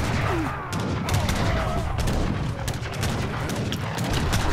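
Musketeers firing volleys in Age of Empires III, a steady crackle of overlapping musket shots with battle noise throughout, loud and continuous.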